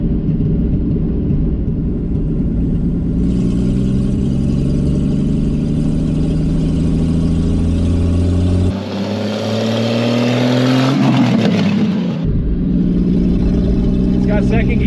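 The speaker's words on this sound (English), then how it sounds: "this thing's running and driving for the first time in 40 years" A Pontiac Ventura, running and driving for the first time in 40 years with no front end fitted, rumbles close by as its engine rises and falls through revs while a person talks over it.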